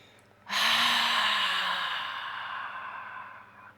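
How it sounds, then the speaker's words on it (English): A single long, breathy exhale through the mouth during a guided yoga relaxation, close and clear, starting abruptly and slowly fading over about three seconds. "inhale deeply, exhale through the mouth"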